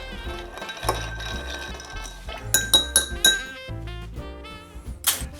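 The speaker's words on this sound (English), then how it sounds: "And give this a stir." A cocktail stirred over ice in a mixing glass, with bright close clinks and rattles of ice and spoon against the glass in quick bursts, sometimes with low background music.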